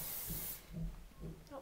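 Hairspray hisses onto styled 1940s hair in one short burst at the start, followed by quiet with faint low rustling.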